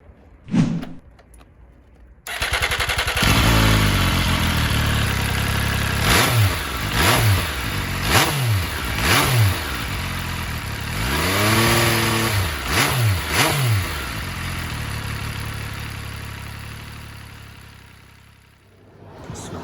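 An MV Agusta Brutale 800 RR SCS three-cylinder motorcycle engine revs hard and accelerates repeatedly, climbing through the gears with rising and falling pitch, loud and close before fading away.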